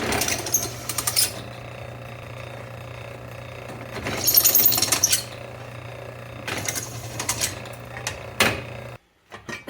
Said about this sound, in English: So just deburr them a little bit.